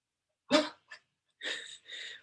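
Soft, breathy whimpers and little huffs from a sleeping, dreaming dog on the floor come in a few short bursts with quiet gaps between them.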